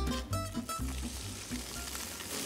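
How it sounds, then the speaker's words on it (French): Red mullet fillets, scored and seasoned with Espelette pepper, frying in a pan with a steady, moderate sizzle and some low clatter early on. "La cuisson du rouget est très très courte."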